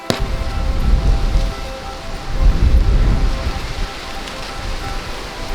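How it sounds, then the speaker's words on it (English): Gusty wind roars across the microphone in broad, rumbling surges that swell and ease, loud and close, with no talking. "That does feel windy"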